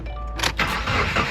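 A Subaru WRX engine cranks and catches in a quick start, close and brief, with mechanical clatter and no speech.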